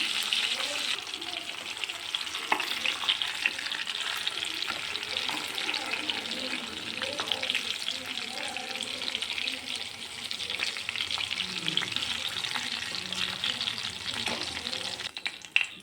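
Chopped onion and curry leaves frying in oil left over from cooking brinjal, a continuous bright sizzle with occasional stirring scrapes and faint background noise throughout.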